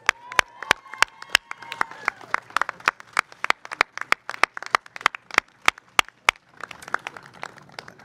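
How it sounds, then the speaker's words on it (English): A crowd gathered at a city celebration claps for an elected official, with sharp, loud, evenly spaced hand claps standing out over a softer spread of applause across the gathering, thinning toward the end. "Come on, clap it up."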